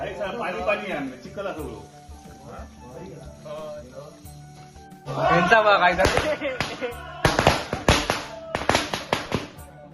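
Loud sharp firecracker bangs burst in a rapid irregular string after about five seconds, following a stretch of people talking nearby at a Tulsi Vivah celebration in Konkan.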